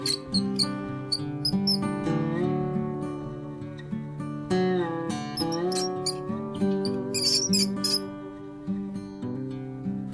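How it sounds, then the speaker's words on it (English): A rat squeaking in short, high chirps scattered in clusters over a sustained tonal musical bed, moderately faint, with no one talking. "This is rat."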